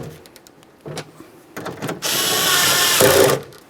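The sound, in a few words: power tool tightening 11mm nuts on a Ford Explorer window motor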